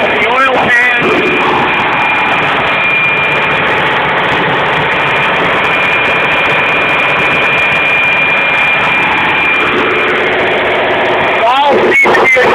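Loud, steady roar of marine diesel engines running in the engine room of the fishing vessel Pacific Producer, one unit leaking oil at the front main seal and oil pan, with someone talking briefly over the din near the start and end.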